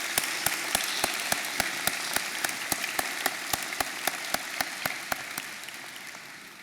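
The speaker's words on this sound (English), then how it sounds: "clap our hands for our family and friends." Steady rhythmic clapping at a university convocation, sharp evenly spaced claps ringing through a large hall, fairly faint and distant, continuing for several seconds.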